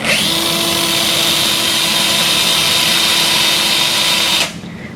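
Surgical power drill boring into a Sawbones plastic hamate bone model, a loud steady high-pitched whine held for about four and a half seconds before cutting off abruptly.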